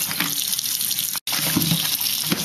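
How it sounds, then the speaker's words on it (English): Peanuts for boiling are rinsed under a running kitchen tap, a steady close splash and gush of water into the sink that cuts out for a moment halfway through. "rinse your peanuts"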